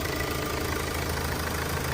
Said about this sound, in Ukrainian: мотор вже гарячий, а так, в принципі, мотор працює адекватно